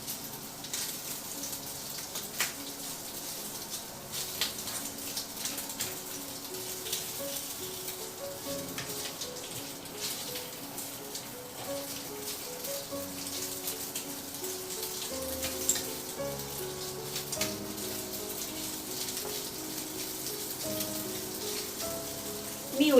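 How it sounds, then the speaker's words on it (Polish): Pork fat sizzles and crackles steadily in a pan while rendering homemade lard, a continuous hiss with scattered pops and faint clinks in the background. "Słyszycie kochanie, zaczyna skwierczeć."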